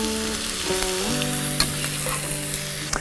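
Onion and green chillies hit a pan with browned garlic and sizzle loudly and steadily, a close, dense hiss with a couple of small pops and stirring clinks, along with a faint sustained tonal hum and no talking.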